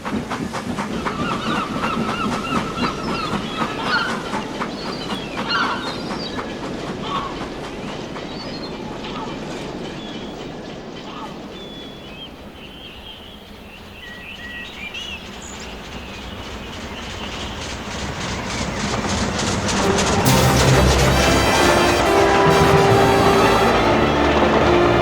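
Steam locomotives racing at speed along an open railway line, a continuous rumbling rush with rhythmic wheel clatter that fades slightly mid-way then swells louder, with a narrating voice over parts and a whistle-like tone near the end.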